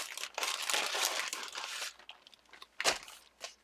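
Sheets of coffee-dyed paper crinkle and rustle close up as they are handled, a dense continuous crumpling that thins into a few sharp crackles near the end.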